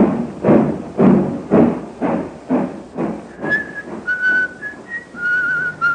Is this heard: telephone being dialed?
no